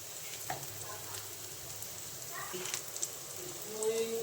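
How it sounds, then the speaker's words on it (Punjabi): Garlic and ginger roasting in a pan over low gas, a soft steady sizzle and crackle with occasional stirring scrapes, close and moderate in level. "ਘੱਟ ਗੈਸ ਤੇ ਭੁੰਨਾਂਗੇ ਆਪਾਂ ਇਹਨੂੰ ਤੇ ਲਸਣ ਅਦਰਕ ਵਗੈਰਾ ਆਪਣੇ ਥੋੜੇ ਥੋੜੇ ਭੁੰਨੇ ਗਏ"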